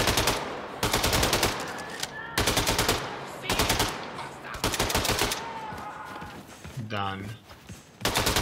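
Rapid automatic gunfire from the video game Wolfenstein II: The New Colossus, loud bursts of repeated shots separated by short pauses, with someone talking briefly near the end.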